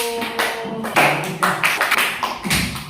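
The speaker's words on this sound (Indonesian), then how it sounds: "Berikan tepuk tangan untuk satu" Children in a primary-school classroom clap in short, bunched bursts of brisk slaps after a group's presentation, close and irregular, with a brief voice at the start.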